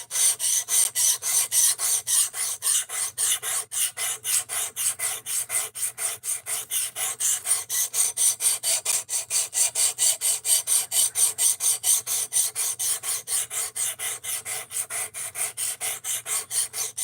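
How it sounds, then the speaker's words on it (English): A knife blade being sharpened with a file or rasp gives steady, rhythmic rasping strokes, close and loud, repeating continuously with no talk. "we are sharpening now"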